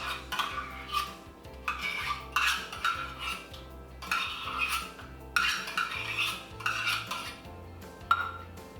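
Tomato paste, veggie broth, maple syrup and molasses for a no-cook sweet and spicy barbecue sauce are whisked in a bowl, giving repeated rhythmic scraping and clinking strokes of the whisk against the bowl, close and steady with no talk.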